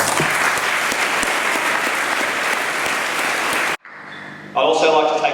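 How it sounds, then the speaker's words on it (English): Graduating boys at a Year 12 ceremony give their parents a big round of applause, loud, dense clapping that cuts off abruptly, followed by a brief pause and a voice speaking. "big round of applause for your parents"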